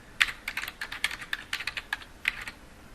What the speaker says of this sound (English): type in our keywords, the Enlightenment